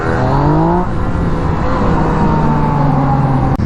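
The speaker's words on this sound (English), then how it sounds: "Just hit the throttle, blip it, and you're going for a spin." Yamaha FZ-09 motorcycle engine, 2016 model, loud and close as the throttle is blipped, revs rising sharply then settling into a steady throaty drone for a few seconds.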